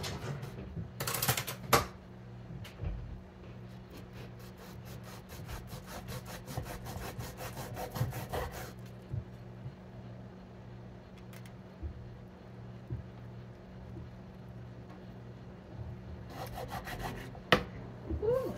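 A knife works through freshly cooked, hot seitan with repeated close rasping strokes in steady rhythm, broken by a couple of sharper knocks near the start and end.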